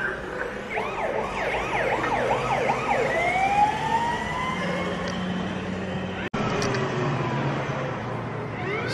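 An old ambulance at the Haynes Motor Museum sounds a loud, close siren that alternates steadily between two wailing tones for several seconds. It then breaks into a long rising sweep, with a brief cut partway through.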